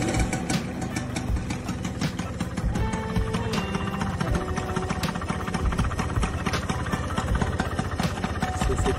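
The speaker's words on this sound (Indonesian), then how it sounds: "ini kondisi suara mesinnya ya, didengerin baik-baik" A 1994 Vespa Corsa Matic two-stroke scooter engine running smoothly at idle, a steady close, buzzy rattle with fine rapid pulses that continues evenly without pause.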